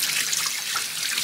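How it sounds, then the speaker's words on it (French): Tap water runs steadily into a kitchen sink while salad leaves are rinsed, a close, continuous splashing stream with no voices. "sécher chaque feuille et rincer sous le robinet"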